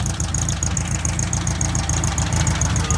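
A Volkswagen Beetle engine idles steadily right after a carburetor adjustment, a close, loud, even rumble with a rapid regular ticking pulse running throughout.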